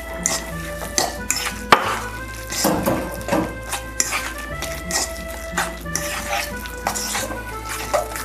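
A bowl of filling with added parsley gets mixed by hand, a busy stream of close, moist squelching and stirring with recurring taps against the bowl, a faint steady hum underneath.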